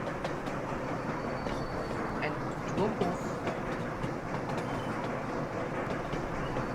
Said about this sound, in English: let's have this train zoom past here